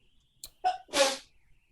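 A single sneeze during a tabletop role-playing game session, preceded by a couple of short sharp intakes and building into a loud, breathy burst, heard close and alone.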